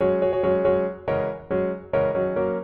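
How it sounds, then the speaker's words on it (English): Plain piano chords struck in a short pattern, several quick repeated hits then sustained chords, clear and close with no voices. "a simple piano reduction like this"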